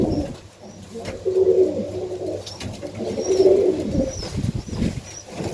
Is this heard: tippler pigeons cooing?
yes